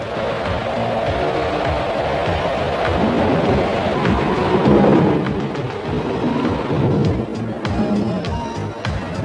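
A thunderstorm at sea, with a steady, loud roar of wind and rain rolling through and a deeper rumble swelling near the middle, constant and close throughout.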